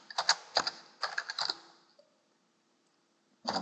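Typing on a computer keyboard, close and fairly quiet: a burst of quick clicky keystrokes, a soft click near two seconds, then a short pause and a final key press.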